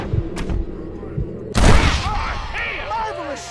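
Gunfire in the Western video game Red Dead Redemption, a loud blast around the middle of the exchange that rings out over earlier thumps, with a voice speaking over the tail.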